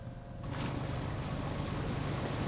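Steady broadband rush of a waterfall in the Half-Life 2 video game, a constant wash of falling water that swells in after a brief quieter moment and then holds loud and even.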